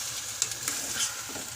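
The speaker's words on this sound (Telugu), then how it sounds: "ఇప్పుడు ఇందులో మనము చిన్న చిన్నగా చాప్ చేసుకున్న టొమాటో ముక్కల్ని వేసుకుందాం. వేసుకొని మంచిగా మిక్స్ చేసుకోవాలి." Finely chopped tomatoes sizzle steadily in a pan of spicy chicken curry while being stirred, a close, constant frying hiss broken by a few soft scrapes of the spoon.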